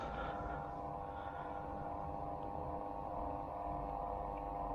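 A remote-controlled bait boat's small motor hums steadily at a moderate distance, with a faint whine on top and no pauses.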